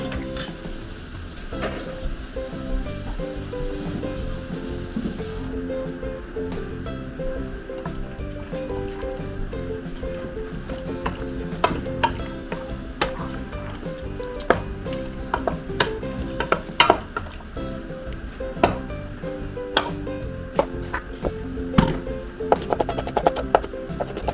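Green chili fries in cooking oil with a steady close sizzle, broken by clicks and light stirring scrapes throughout.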